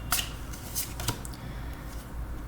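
Oracle cards being shuffled and drawn: quick papery riffles and flicks close by, a few sharp bursts over a couple of seconds, with no talking.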